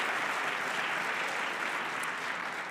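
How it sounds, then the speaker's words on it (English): Sustained applause from a crowd at an award ceremony after a keynote speech, dense clapping at an even level throughout, no voices standing out. "Yeah, applause."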